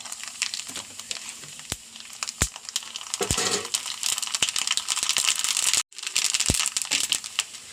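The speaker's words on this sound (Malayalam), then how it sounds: "എണ്ണയിൽ കടുക് പൊട്ടിക്കണം" Mustard seeds spluttering in hot oil: a dense crackle of tiny pops with sharp louder snaps scattered through it, nearby and continuous apart from a brief gap, with no voices.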